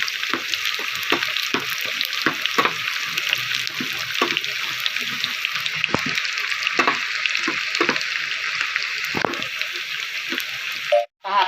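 Four red chillies dropped into hot oil for a tadka in a home kitchen, crackling and sizzling steadily with sharp spattering pops throughout, close and fairly loud, with a brief clatter at the end.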